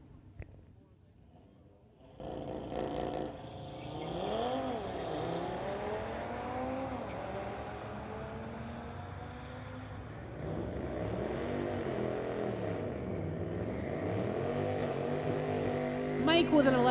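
A 2019 Audi and a 2003 Ford launch side by side at a street-legal drag race. The engines rev, climb and shift through rising and falling tones, fairly distant, with a crowd murmur and an announcer's voice underneath.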